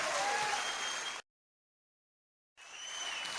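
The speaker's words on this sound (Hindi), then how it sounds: "आप सब लोग जोरदार ताली इसलिए बजाएं" An indoor audience at a business event applauds, a dense wash of clapping that cuts to silence for over a second and then resumes just as full.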